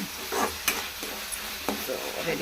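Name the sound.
food frying in a pan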